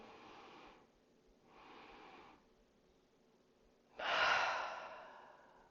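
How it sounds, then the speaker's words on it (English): Two soft, steady breaths are followed by a deep, forceful gasping inhale during a beginners' yoga breathing exercise, close and breathy with no talking. "take another little gasp in"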